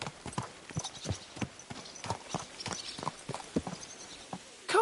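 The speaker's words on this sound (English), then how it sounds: "Watch out with that horse!" Horse hooves clip-clop in a fairly even walking rhythm, crisp, close and fairly loud against a quiet background, with a brief louder burst at the very end.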